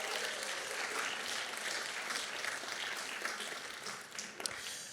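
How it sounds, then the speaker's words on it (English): Sustained applause from a large audience at a Broadway honorees event, continuous clapping that thins slightly toward the end with a few sharp claps. "Let's give a special round of applause for Ashley and Anthony Solomon and Linda Ler"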